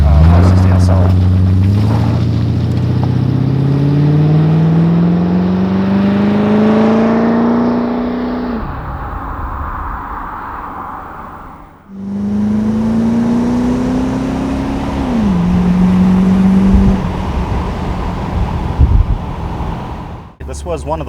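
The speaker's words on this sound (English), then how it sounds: "That sounds way better than any stock 560 SL." A 1987 Mercedes-Benz 560SL with Carobu Stage One tuning pulls away loudly, its engine revving up through the gears in rising sweeps, dropping briefly before climbing again, with wind noise and a voice talking over it.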